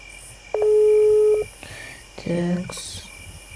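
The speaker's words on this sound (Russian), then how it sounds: "Так, набираю номер." Telephone call tones while dialing the police: a long steady electronic tone, then a short burst of higher stepped beeps, alone in a quiet room with faint background hum.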